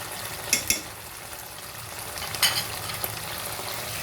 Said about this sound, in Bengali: লবণ দিয়ে একটু নাড়াচাড়া দিয়ে